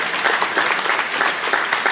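Schoolgirls clapping hard at a girls' school event in Rajasthan, a dense, steady wall of applause from many hands filling the whole stretch with no clear pauses.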